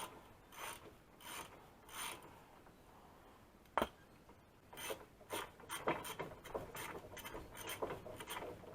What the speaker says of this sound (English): you hit a spot where, nope, you got to use the wrench again